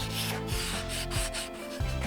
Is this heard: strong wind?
no